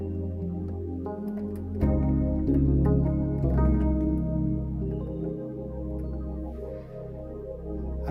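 Stage keyboard piano voice layered with a synth pad on a Yamaha YC stage keyboard, sustained chords changing every second or so, with a soft pad swelling beneath the piano attacks, heard alone at moderate loudness.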